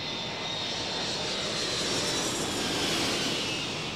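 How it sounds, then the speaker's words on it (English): Airliners flying low over the Kowloon Peninsula on approach to Hong Kong's airport, banking into a sharp right turn toward the runway, give a loud, continuous jet roar that stays steady throughout. "300 planes a day fly low over the Kowloon Peninsula to make a sharp right-hand turn to line up with the runway"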